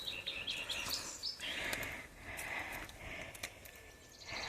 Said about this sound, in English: Listening to the birds.